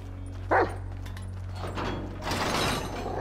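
A single short, sharp bark from Chop, a dog in Grand Theft Auto 5, rising above a steady mechanical hum, followed by shuffling and rustling noises, with no voices.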